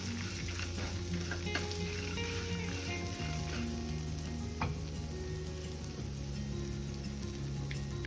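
Steady, dense sizzling of oil in a frying pan for a capsicum potato curry, with crackles and faint clinks of utensils over a constant low hum.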